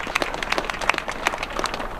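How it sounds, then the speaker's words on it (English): Audience applause breaks out, a brief burst of scattered, uneven clapping at moderate distance, with no voices over it. "give her a round of applause"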